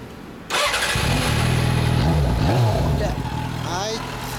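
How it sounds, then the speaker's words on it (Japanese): A 2007 Yamaha FZ6 motorcycle engine fires up and idles with a steady mid-pitched rumble, a brief rev swelling partway through, with voices faintly in the background. "なんかエンジン音聞かせてもらえる？"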